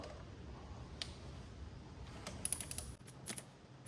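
A 10mm wrench slackens the fuel pump bolt on a 2.5 TDI VW T4 Transporter diesel, giving a few faint, quick ratcheting clicks and light metallic taps over a quiet background.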